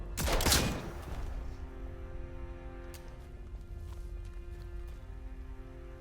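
A rusty rifle fires in the Atomfall video game: one loud, close burst of gunfire right at the start, then fading into a low ambient hum with faint tonal drones and no further shots.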